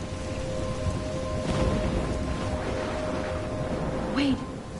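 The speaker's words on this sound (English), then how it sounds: "I'm trapped in a storm?" A stormy scene from Life is Strange, with steady heavy rain hissing throughout, a low thunder rumble beneath it and a short sharp sound near the end, while a voice talks over it.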